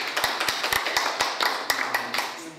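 Applause at a Korean association board meeting: a small group claps in a sparse, uneven rhythm, close and distinct, with a few voices murmuring beneath the claps.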